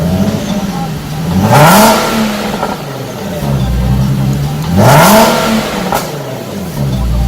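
A car engine with an AAM resonated test pipe revs twice with a deep, resonant exhaust, rising and falling between steady idle, close up, with voices talking over it.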